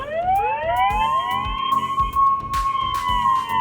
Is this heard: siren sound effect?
yes